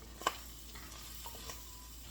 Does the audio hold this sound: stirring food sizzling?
yes